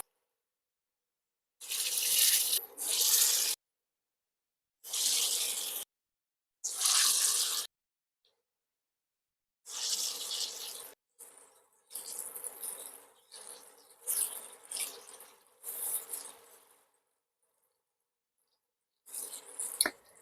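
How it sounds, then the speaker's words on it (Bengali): Green banana kofta balls frying in hot refined oil for a vegetarian curry made without onion or garlic, giving a bright crackling sizzle in separate bursts with short silences between them, close up and with no talk. "তেল গরম হয়ে গেছে, আমি এবারে একে একে বড়াগুলোকে ভেজে নেব।"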